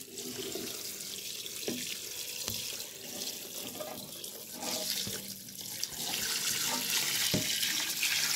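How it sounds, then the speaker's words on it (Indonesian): Coconut milk pours into boiled jackfruit for gudeg, a continuous close splashing rush that lasts throughout and grows slightly louder near the end. "pertama-tama kita masukkan santannya"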